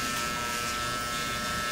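Hair clipper trimmers run during a razor-sharp outline, with a steady, close electric buzz and no talk over the brief stretch.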